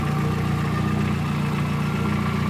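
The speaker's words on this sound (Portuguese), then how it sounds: "Parece que tem algo solto dentro, sambando dentro do motor." A VW Gol 1.0 8v engine that has suffered overheating, with a loose part suspected to be a piston pin, idles steadily with a close, low, droning hum and a faint repeating tap inside.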